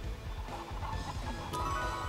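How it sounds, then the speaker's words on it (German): Chickens clucking in the video game Hyrule Warriors, a soft, rapid run of repeated clucks under faint game background sounds. "das waren die Hühner"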